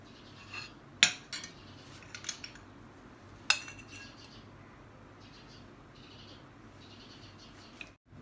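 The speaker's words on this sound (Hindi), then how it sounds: "अब इन सब ड्राई इंग्रेडिएंट्स को मिक्स कर लीजिए" A spoon mixes dry mug cake ingredients, giving a few sharp, isolated clinks against the mug between long quiet stretches of soft scraping, close but faint overall.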